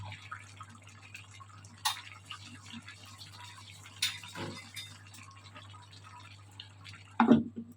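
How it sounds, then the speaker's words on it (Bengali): Water splashes and drips in scattered splashes over a steady low hum while someone washes up during home cooking, with one louder splash near the end; no speech. "আমি একটু ধুয়ে নিই"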